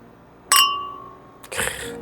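Glasses of a booster drink clink once in a toast, giving a bright, ringing chime that fades slowly; a softer rustle or pour follows about a second later.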